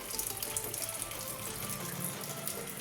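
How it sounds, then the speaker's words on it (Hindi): Water spills steadily from a home RO water purifier, a continuous close splashing hiss with no pauses or voices. "ये देखो आरओ में से पानी फैल रहा है"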